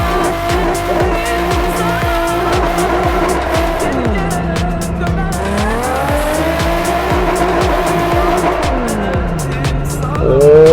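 Nissan 350Z drifting in the Assetto Corsa racing game, its engine revving and rising in pitch through repeated slides with continuous loud tire squeal, steady and close throughout.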